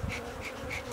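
Honeybees buzz steadily near a hive, a close, continuous droning hum with slight pulsing swells, alone with no voices.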